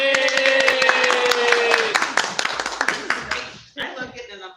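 Enthusiastic applause at a community revitalization meeting, with scattered claps and cheering voices, loud and dense at first, then thinning into sparser claps before a brief pause and a final few.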